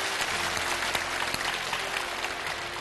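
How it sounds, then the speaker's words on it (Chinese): Studio audience applauding during a televised lecture show, a steady dense wash of clapping throughout with a few sharper individual claps standing out. "我想这个我们全部应该为您鼓掌。"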